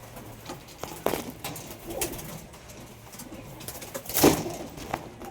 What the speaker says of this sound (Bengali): এই যে কামাগার